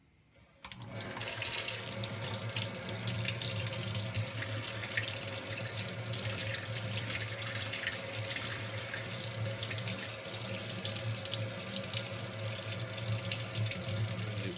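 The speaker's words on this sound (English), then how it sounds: "So we're going to rinse out the filter under some cold water." Cold tap water runs steadily over a Dyson cordless vacuum filter being rinsed at a sink, a loud continuous splashing gush that starts abruptly and holds even throughout, with no talking.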